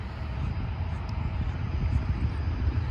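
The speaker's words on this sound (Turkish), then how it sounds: "Evet bir uçak daha geliyor şu an." An airliner approaches to land at a busy airport, a low, steady engine rumble heard from a distance, continuous and fairly faint throughout, with no talking.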